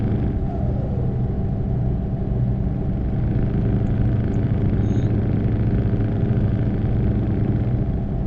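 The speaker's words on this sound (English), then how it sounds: "Are you hearing the game sound? The truck and such?" A heavy truck in the Euro Truck Simulator 2 game cruises along with a steady, droning engine rumble that holds at an even, moderate level for the whole stretch, with no talking.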